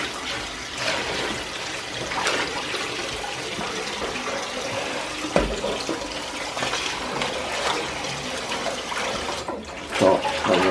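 Potato wedges washed in a bowl of water with steady, heavy sloshing and splashing that runs continuously, with a few louder splashes and clinks along the way.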